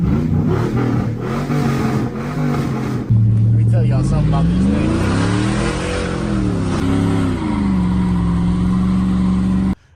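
The engine of a 2002 Chevrolet Silverado 1500 pickup truck rumbles loud and close, rising and falling through several revs while someone talks over it at first.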